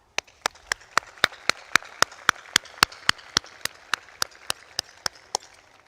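Audience claps for pharmacy graduates at a school of pharmacy commencement ceremony, sharp evenly spaced single claps about four per second, loud and close over a faint room murmur.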